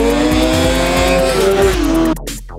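Scorpion P6 flying Formula car's 125-horsepower engine screams loud and close, a sustained high whine with shifting pitch that holds steady, then cuts off abruptly near the end.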